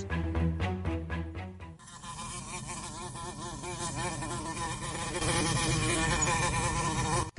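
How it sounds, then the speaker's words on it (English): Swarm of wasps buzzing outdoors, a dense, continuous drone that grows slightly louder toward the end, with a brief burst of other sound at the very start. "there are so many wasps out here"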